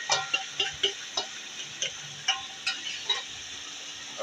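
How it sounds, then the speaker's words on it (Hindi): Marinated liver is stirred into hot oil in a pan, giving a series of light, evenly spaced scraping clicks over a soft sizzle, close and moderately quiet. "जो मैरिनेट की हुई कलेजी है वो इसके अंदर आप मिक्स कर दें"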